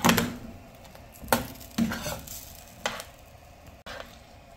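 A spoon stirs sauce into chicken stew in a pot, giving several separate scraping and sloshing strokes with soft sizzling between them, close and without talk.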